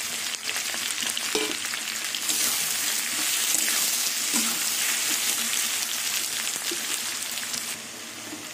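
Tomato hitting a pan of frying ghetkol stalks, a dense continuous sizzle with occasional stirring knocks, close and loud throughout, easing slightly at the end.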